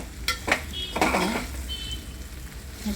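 Previously fried potatoes tip into a pan and get stirred with a spoon for a matar aloo dish, giving a few short scraping clinks and a soft low sizzle, close and moderately loud, with no talking.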